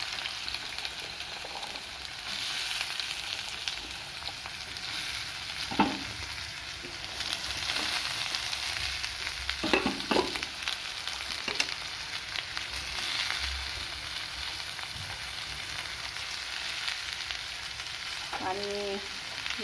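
Bottle gourd sizzles steadily in hot oil with cumin and mustard seeds for a dry vegetable dish, a soft, even hiss broken by a few sharper spatters and stirring knocks.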